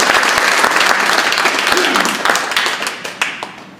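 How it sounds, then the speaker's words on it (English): A large audience claps loudly and densely after a talk on free speech and social media mobs, the applause holding strong and then gradually thinning toward the end. "Let's give him a big round of applause"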